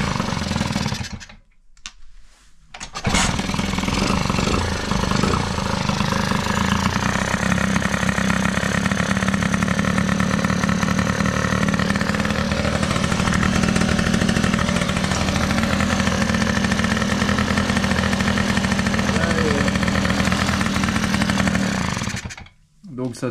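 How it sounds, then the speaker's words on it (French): A Motobecane AV88 moped fitted with an AV10 engine and a Ninja exhaust starts up and runs steadily for about twenty seconds, loud and close, with a buzzing two-stroke idle before it cuts off. "Donc ça tourne, c'est nickel"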